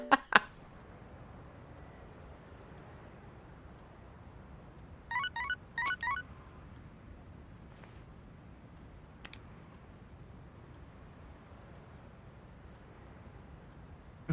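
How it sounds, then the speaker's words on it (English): A text message notification in the video game Persona 3 Reload: two short, bright chirping chime bursts midway through, over a quiet background with a few sparse clicks. "Got a text message."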